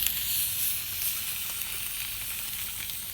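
A tri-tip sears on a Pit Barrel Cooker just after being flipped, a dense, steady hiss of fat sizzling close by with faint crackles throughout and no voices.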